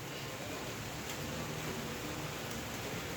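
Heavy cyclone rain pours down in Anneshery as a dense, unbroken hiss that stays steady and loud throughout, with no voices.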